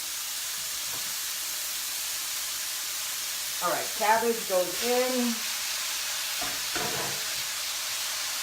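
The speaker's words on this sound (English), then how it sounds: "the loud sizzling of my pan" Vegetables for fried rice sizzle in a frying pan with a constant loud hiss, while a voice speaks briefly over it partway through.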